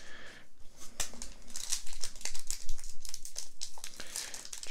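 A foil pack of Pokémon Evolving Skies trading cards is torn and opened, giving steady close crinkling and rustling of wrapper and card stock with a few sharper rips, no voices.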